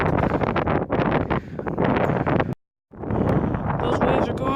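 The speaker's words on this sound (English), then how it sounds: "you're gonna just hear a bunch of the wind" Strong wind roars across the microphone on a cold day beside crashing waves, a loud, constant broadband buffeting that cuts out briefly before surging back.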